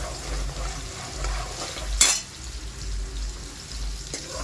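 Tomato and cumin fry in a pan, making a steady low sizzle, and a spoon scrapes through them in slow stirs with one sharper clatter midway; no one speaks.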